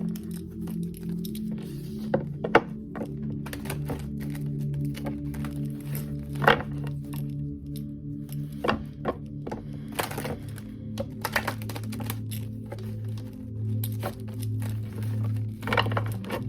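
Tarot cards being pulled and shuffled during a reading, soft scattered taps and brisk snaps of card stock over a low steady hum, close and fairly quiet.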